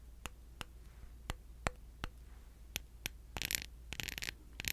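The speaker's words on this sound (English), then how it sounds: "I will tap on it with my pen." Pen tapping on a red glass ink bottle, a series of sharp, bright clicks at an uneven pace, close and clear, ending in a few quick scrapes and rattles over the patterned glass.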